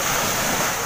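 Strong high-tide ocean waves at a Zambales beach roar as a dense, constant surf wash, close and loud with some wind noise.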